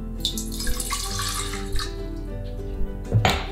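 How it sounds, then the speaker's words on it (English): Hydrogen peroxide pouring into a tall cylinder in a home kitchen, a steady liquid stream running for a few seconds, close and moderately loud, ending with a brief splash and clatter. "you're going to need 1/2 cup of hydrogen peroxide into your tall cylinder"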